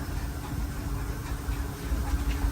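The Disneyland Railroad train rumbles steadily as it rolls into New Orleans Square Station, a low continuous engine and wheel drone holding without pause.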